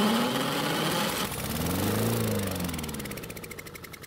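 Honda lawn mower engine running unevenly on propane fed from a torch, a loud close sputtering drone that surges and fades, breaking into a rough pulsing chug toward the end.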